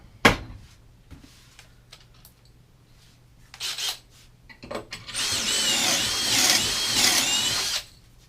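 A power drill bores a pocket hole through wood with a Kreg K4 pocket hole jig clamped to a table, a loud sustained whine of about three seconds after a few short clicks and handling knocks.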